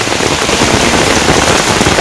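Heavy rain pours down in a Bangladeshi village during the rainy season, a loud, dense, continuous roar of drops drumming on surfaces close by, with no voices.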